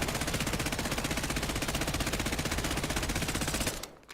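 Automatic gunfire in the video game Warzone: a loud, continuous rapid-fire burst with a steady rattling rhythm lasting several seconds, then cutting off abruptly, with no talking.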